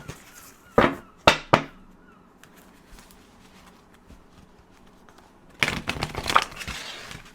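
Tarot cards being shuffled by hand: three sharp riffling bursts early on, then a quiet stretch, followed by a longer, louder run of riffles and card taps near the end, close and alone with no talk.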